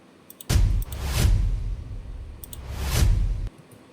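Transition effects in an electronic track: two broad, noisy swells with deep rumbling lows, each building and dropping off, between short ticking hits, with no talking.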